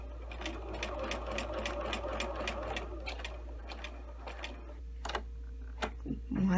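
A sewing machine stitches a tailored shirt placket in a fast, even run of needle strokes that slows near the end into a few single stitches, close and clear, with a person speaking softly.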